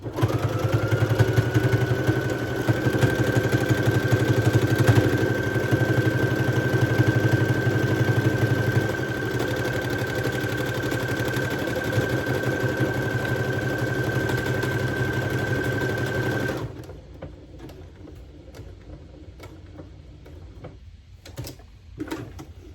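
A sewing machine runs steadily while stitching a man's fitted shirt, a close, continuous mechanical whir with a constant tone that stops abruptly near the end, leaving quiet room noise and a few small clicks.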